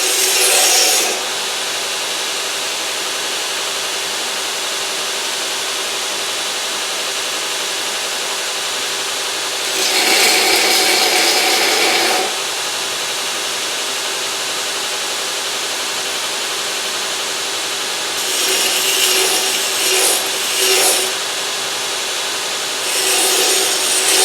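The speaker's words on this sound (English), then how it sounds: "we're gonna just trim this on up here, this little corner here, and put it on our grinder." Bench grinder trimming the corner of a forged filet knife, a steady loud abrasive hiss throughout with a few brighter bursts as the steel is pressed harder against the wheel.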